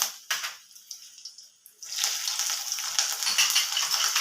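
Curry leaves hit hot oil for a tempering with mustard seeds and dal, bursting into a loud, steady sizzle after a few faint crackles and pops, close by with no talk.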